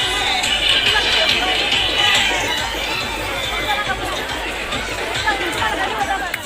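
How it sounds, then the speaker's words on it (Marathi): Dense crowd babble at a busy village fair in Maharashtra, a steady loud hubbub of many overlapping voices with chatter close by and no single speaker standing out. "तर तुम्हाला दाखवतो गर्दी"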